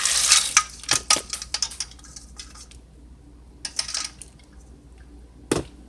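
Dry great northern beans pour into a crock pot in short rattling bursts, a loud spill at the start, then scattered clicks and another brief rush of beans near the end, with quiet gaps between.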